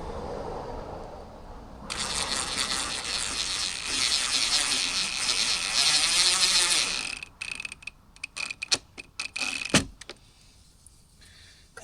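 A powered driver runs a self-tapping screw into a mud flap on a Colorado ZR2 with a steady high whir that lasts about five seconds, then breaks into short bursts and clicks before stopping.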